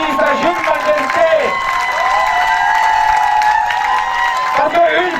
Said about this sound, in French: Est-ce qu'on ne peut pas applaudir sa Jeune Majesté?